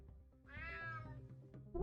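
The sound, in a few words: cat meowing in video game UnMetal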